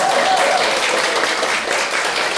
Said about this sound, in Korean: 예, 박수 또 한번 치세요.